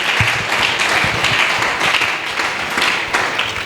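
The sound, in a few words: church congregation applauding for the Lord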